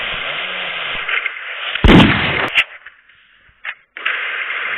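Loud explosions in a Thai online shooting game: a sharp, heavy blast bursts over steady game noise, followed by a couple of smaller pops and a brief lull before the din resumes.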